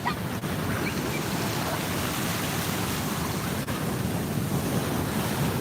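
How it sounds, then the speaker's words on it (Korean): Ocean surf breaking on the shore, a continuous washing roar with wind buffeting the microphone, steady and moderately loud with no speech. "야 저 뒤에서 또 밀려온다 파도들"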